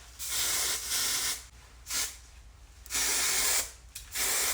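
Several long hissing sprays from an aerosol hairspray can, coming in bursts with short pauses between them, close and fairly loud.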